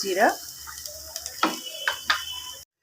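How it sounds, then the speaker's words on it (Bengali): A spatula stirs and scrapes washed, drained flattened rice (poha) with chopped chili and a pinch of sugar in a pan, giving a few soft scraping strokes and light taps over a faint background sizzle. "চিড়াটাও একটু নেড়ে চেড়ে নিয়েছি"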